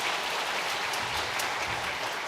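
Applause from a church congregation during a Sunday worship service, a dense, steady wash of clapping filling the room for a couple of seconds with no voices over it.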